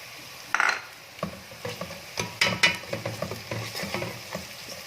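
Onions frying with garlic ginger paste in a pan, a soft sizzle broken by repeated scraping and stirring clatters of a utensil, close and fairly quiet.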